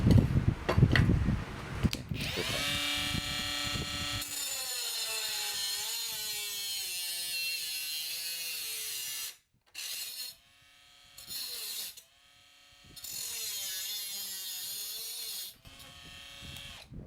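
A PRO EKCO 12V cordless brushless 3-inch mini angle grinder whines at high speed as it cuts a channel at 45 degrees. The pitch shifts under load, and the tool cuts out several times when the disc binds before spinning back up.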